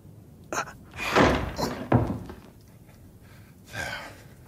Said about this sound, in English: Won't be the last door we have to force tonight.